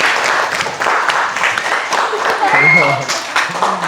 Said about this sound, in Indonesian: Tepuk tangan sekali lagi ya buat kelompoknya Diva.